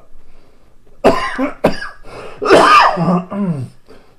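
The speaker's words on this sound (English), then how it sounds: "A little bit of dry cough there." A man coughs several times in quick harsh bursts, close and loud, each a dry hacking cough separated by short pauses.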